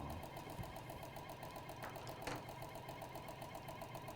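A quiet sewing machine runs steadily in a crafting studio, a soft continuous whirring hum with faint rhythmic ticking, low in level with a brief clunk partway through.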